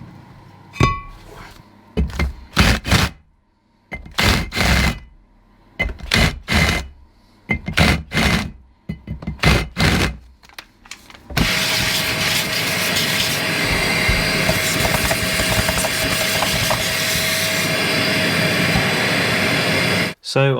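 Power grinder bevelling the edges of a steel steering knuckle part for a Dana 30 WJ axle build, a steady loud harsh whine starting about halfway and running continuously after a stretch of short, bursty clanks and handling sounds.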